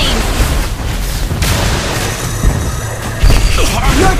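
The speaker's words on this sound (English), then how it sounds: "Your team destroyed a turret!" In Mobile Legends, a turret is destroyed with dull booming impacts amid busy game effects. A loud burst lands near the end, while an announcer-style game voice runs over the action.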